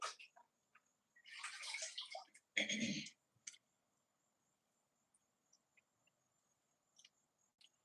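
Water poured over a rock to wet it: two short splashing pours close by, followed by faint drips and a steady high insect chirp in a quiet background.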